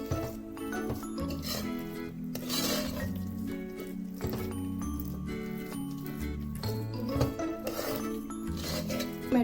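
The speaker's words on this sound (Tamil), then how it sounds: "இப்போ நல்லா இதை மசிச்சு வச்சுக்கலாம்." Pressure-cooked rice is mashed in a pot while making akkaravadisal, a traditional sweet, giving soft rhythmic squishing and pattering with occasional light clinks of the utensil, faint beneath steady background music.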